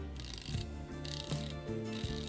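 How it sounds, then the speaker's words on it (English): A 120-click unidirectional bezel on a Draken Kruger 300m pilot's chronograph is turned in short bursts, giving close, crisp ratcheting clicks in quick runs with brief pauses between them. "it's a 120 click unidirectional bezel. It only goes in one direction."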